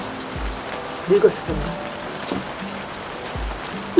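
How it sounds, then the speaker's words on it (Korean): Rain falls outdoors in the countryside, a steady soft hiss of drops continuing throughout, while people talk close by over it. "비 오는 거 보면 좋지, 빗소리가."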